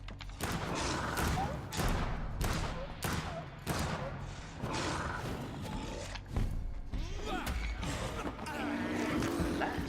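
Gunfire in the vampire action game Vampyr, a run of loud shots and impacts mixed with creaking mechanisms and combat noise, with talking over it throughout.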